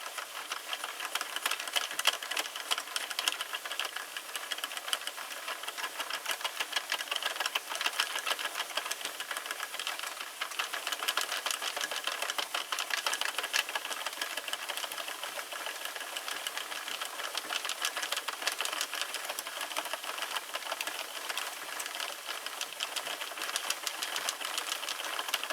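A Sentro knitting machine is cranked with Fishermen's Wool yarn, giving a steady, fast rattling clatter of needles that runs evenly and fairly softly throughout, with no talking.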